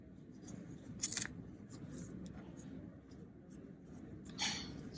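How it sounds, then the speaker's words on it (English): Scissors snip thread for a handmade river rocks pouch, two quick close cuts, one near the start and one near the end, over quiet room background. "I'm going to cut them."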